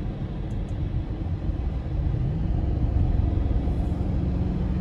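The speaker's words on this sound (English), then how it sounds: "it's got such a great rumble to it" Audi RS Q8 4.0 twin-turbo V8 engine rumble in a 2022 model: a steady, deep low rumble from inside the cabin, growing slightly louder and fuller about halfway through, with no talk.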